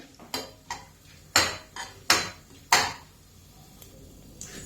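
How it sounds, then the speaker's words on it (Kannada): Urad dal frying in oil in a pan for gooseberry chutney, heard mostly as a series of sharp metallic scrapes and clinks of a spoon against the pan over a low sizzle, with no talking. "ಇದು ಚೆನ್ನಾಗಿ ಎಣ್ಣೆಗ ಹುರಿಬೇಕ್ರಿ"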